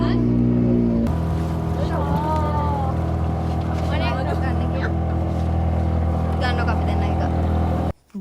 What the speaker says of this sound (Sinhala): අපි boat ride එක යන ගමන්